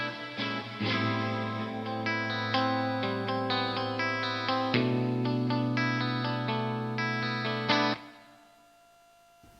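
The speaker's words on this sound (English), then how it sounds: "Just gonna use the basic Pro Tools reverb." A sampled chord passage run through a basic Pro Tools reverb plays steadily with sustained harmonic tones and layered effects, ending near the eight-second mark into a fading reverberant tail.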